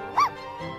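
A black Pomeranian in The Sims 4 video game gives one short, clear yip-like bark, followed by quiet background.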